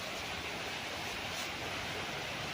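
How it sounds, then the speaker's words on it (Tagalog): River behind a farm lot beside a provincial road in Magdalena, rushing water making a constant soft hiss and roar, faint and steady, with no one talking. "ang lakas ng tunog ng tubig ng lagaslas"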